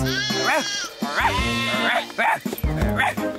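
Sheep bleat up close, several wavering calls in quick succession, with short pauses between them.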